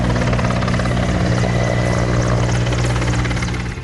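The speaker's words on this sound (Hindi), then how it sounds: "हर तरफ वायुसेना के विमान अस्पतालों पर पुष्प वर्षा करने लगे" An Indian Air Force helicopter flies low overhead during a flower-showering flypast over hospitals, its rotor and engine a loud, steady, close drone that fills the whole stretch without a break.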